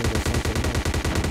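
Rapid bursts of automatic gunfire in PUBG Mobile, a steady rattling string of about a dozen loud, close shots with no talk over them.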